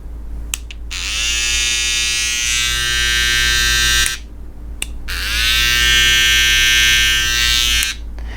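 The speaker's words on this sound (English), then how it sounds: "And here we have the Babyliss Gold FX trimmers." A Babyliss Gold FX hair trimmer buzzes loudly and close in two runs of roughly three seconds each. Each run starts with a quick rising whine, settles into a steady high drone and stops sharply.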